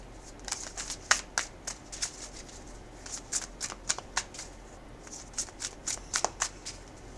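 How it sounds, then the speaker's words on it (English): Defender oracle cards are shuffled by hand in a steady run of quick, crisp riffling bursts, close up and fairly quiet, with brief pauses between clusters of shuffles and no talk. "Oh, let me get the Defender cards."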